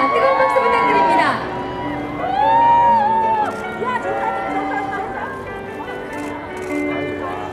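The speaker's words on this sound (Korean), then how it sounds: "뜨거운 박수 부탁드립니다." Fans at the 2017 Buil Film Awards red carpet cheer and whoop for an arriving singer, with rising shouts and crowd noise over continuous talk.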